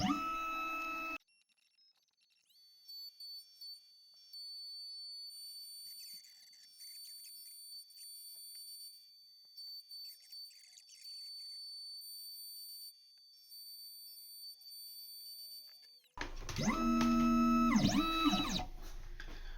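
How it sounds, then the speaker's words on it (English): Xhorse key cutting machine milling a blade for a 2007 BMW 1 Series spare key, a steady high whirring whine running nearly uninterrupted at close range, with louder clattering machine noise at the start and end. "now we're just going to press cutting as in all our other previous videos"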